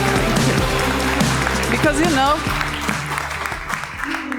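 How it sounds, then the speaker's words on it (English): Warm audience applause for Carlos Paniagua, founder of Glia, at the Latitude59 tech conference, with steady clapping from the crowd running under an interviewer's speech and background music throughout. "I ask for a warm applause"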